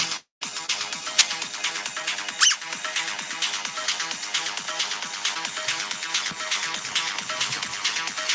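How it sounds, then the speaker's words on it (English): An original 1969 rubber squeaky toy squeaks over and over as it is squeezed, a steady run of sharp, bright, close squeals with no voices. "this one's so original he still squeaks"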